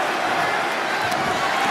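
A dense, steady roar of an arena crowd rises in the wrestling video game WWE 2K25, a continuous cheering wash heard under commentary.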